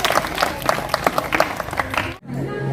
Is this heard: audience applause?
yes